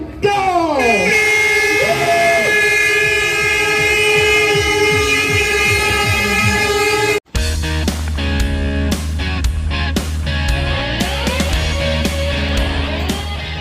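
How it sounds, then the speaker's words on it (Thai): A loud air horn starting a trail running race blares in one long, sustained blast, then cuts off into a noisy stretch of crowd clatter and bustle. "เดี๋ยวรอฟังเสียงแตรลมนะคะ"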